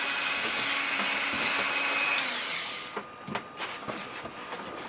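A Dremel rotary tool whines steadily at high speed while enlarging a hole, continuous and close, then cuts off into scattered clicks and handling noise.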